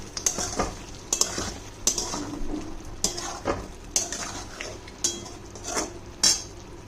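Chicken with lemon zest and chopped lemon leaves is stirred in a sizzling pan, with a spatula scraping and tapping against the metal in a regular rhythm over a constant frying hiss.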